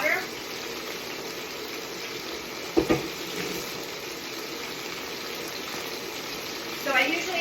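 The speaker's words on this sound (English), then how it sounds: "I'm going to soak it in some hot water." Hot water runs steadily into a pot for soaking sausage and broccoli rabe, a soft, even hiss with a brief clunk partway through and faint voice traces at the edges.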